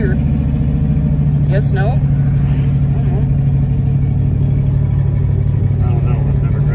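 A 1972 Oldsmobile Cutlass engine runs at a steady mid-pitched drone as the car is driven slowly, with a brief voice over the constant hum.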